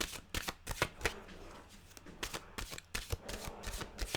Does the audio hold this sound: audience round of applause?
no